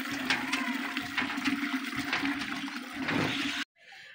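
Water gushes from a hand pump in a steady, loud rush for several seconds, then cuts off abruptly, leaving a faint trickle.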